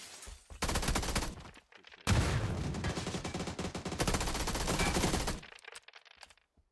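Rapid automatic submachine gun fire in the battle royale game PUBG: loud sustained bursts with short gaps, a long stream of dense shots, then fading echoes and quieter scattered sounds at the end.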